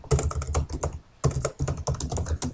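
Rapid typing on a computer keyboard while entering basic text into an HTML document, a dense run of close, crisp key clicks that pauses briefly near the middle before resuming at the same steady pace.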